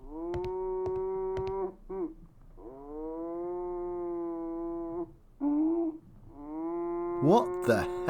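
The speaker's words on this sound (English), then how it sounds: "Is someone hiding a cow in his room?" A cow moos repeatedly in the video game Sherlock Holmes: The Devil's Daughter, with several loud, drawn-out calls close by, separated by short gaps.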